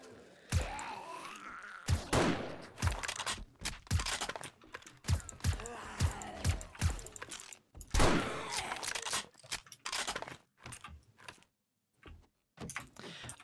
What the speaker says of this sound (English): I love the noise of your gun.